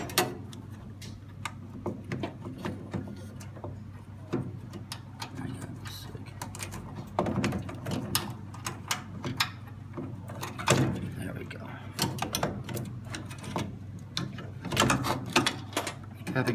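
Plastic capping station being wiggled back and forth and pulled out of an Anajet Sprint direct-to-garment printer, giving scattered close clicks, ticks and scraping knocks over a steady low machine hum, with no talk.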